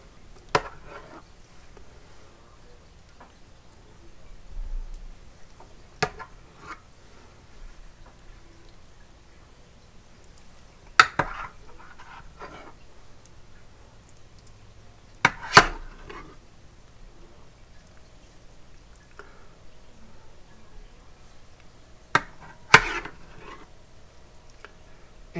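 Tomato sauce spooned over stuffed peppers with a spoon, a quiet setting broken by a handful of sharp clicks and taps of the spoon against the dish, spaced several seconds apart, plus faint soft wet sounds between them.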